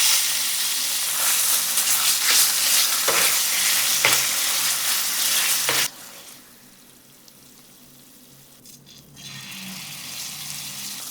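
Drained tuna frying in a pan, a bright loud sizzle with a few stirring scrapes for about six seconds, then dropping suddenly to a much quieter, gentle crackle.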